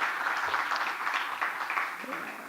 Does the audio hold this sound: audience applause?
yes